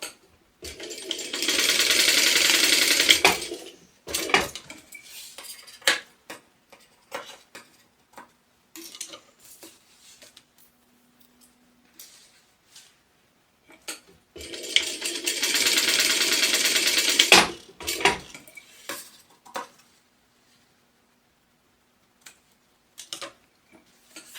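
Home sewing machine stitching fabric for a small tote bag, two sustained runs of rapid mechanical chatter separated by quieter ticks and handling clicks while the cloth is repositioned.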